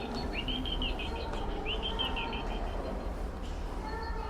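Recorded birdsong played through an art installation: clear, repeated chirping phrases over a dense, steady bed of background noise, heard alone without voices.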